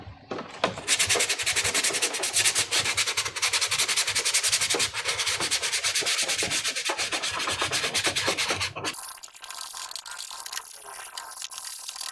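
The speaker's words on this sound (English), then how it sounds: "And now we start polishing." Sandpaper is rubbed rapidly back and forth to sand and polish a filled armor chest piece for a Shoretrooper or Deathtrooper costume. The scratchy strokes are close and loud, then turn softer and more scattered toward the end, with no talking.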